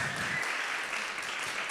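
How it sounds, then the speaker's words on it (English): An audience at a hackathon awards ceremony applauds, a steady, dense patter of many hands clapping at an even level from start to finish. "This is your applause."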